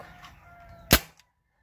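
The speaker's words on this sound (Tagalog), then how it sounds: "mahina daw yung putok" A single sharp report from a sniper rifle fired outdoors, loud and abrupt, decaying quickly into silence after faint background noise.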